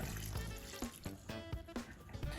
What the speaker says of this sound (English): And just pour over the vegetables like that.